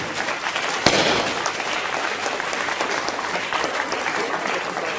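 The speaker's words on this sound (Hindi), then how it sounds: "आपकी तालियों का क्रम जारी रखिए" A theatre audience breaks into sustained, dense applause at a drama performance, a sharp loud crack near the start, then steady full clapping throughout.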